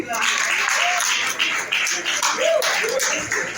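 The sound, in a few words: congregation applauding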